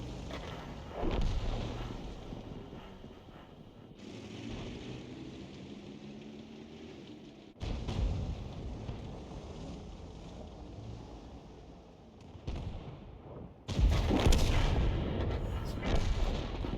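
Tank cannon shots in World of Tanks, a self-propelled Panther artillery gun firing in a battle: several heavy booming blasts at intervals, each with a rumbling tail over wind-like background noise.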